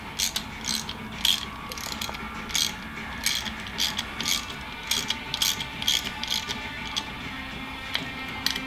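On a Triumph Scrambler 1200XE, a hand ratchet tightens the fasteners of an LED fog light mount, giving quick repeated clicking strokes in a steady rhythm, fairly close and alone.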